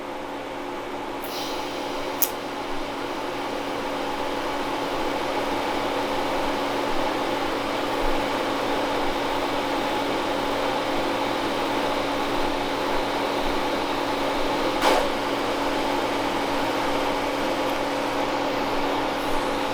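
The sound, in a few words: TIG fusion welding a stainless steel go kart exhaust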